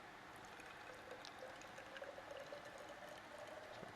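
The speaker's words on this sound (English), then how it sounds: "because I am pouring boiling water" Boiling water is poured into a laboratory beaker during an aspirin synthesis, making a faint, steady liquid stream with a soft hiss that continues unbroken for a few seconds.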